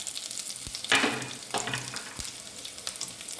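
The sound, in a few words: raisins frying in cow ghee in a pan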